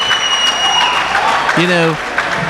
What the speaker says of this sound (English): They're clapping here.